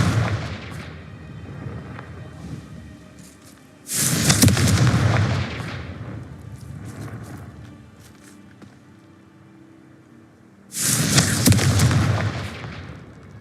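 Two loud blasts from the Confringo fire spell in Hogwarts Legacy, each a sudden explosive burst that rumbles and fades over several seconds, separated by a quieter stretch of ambient game sound.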